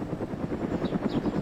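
A helicopter in the video game DayZ drones with a low, steady rotor thrum, moderately close and continuous, with no voices over it.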